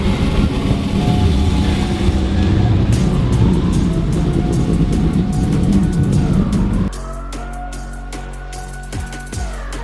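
A 1980s BMW E30 M3 racing at Snetterton in a classic touring car race: loud, dense engine roar from several cars rushing past, dropping abruptly to a fainter engine note with brief tire and mechanical noises.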